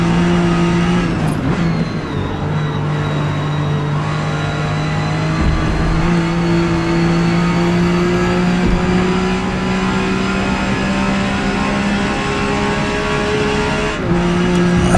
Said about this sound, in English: Sounds epic, this engine.